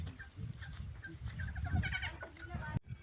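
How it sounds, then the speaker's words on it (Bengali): Goats at a farmhouse bleat repeatedly and close by, several overlapping calls over a rumbling background with some voices talking. "কতগুলো ছাগল দেখো গাইস।"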